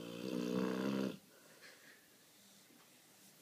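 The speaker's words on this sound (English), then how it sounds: "Hey, stop snoring." A dog snores loudly in one long, rumbling breath for about a second, then only faint soft breathing and quiet room noise follow.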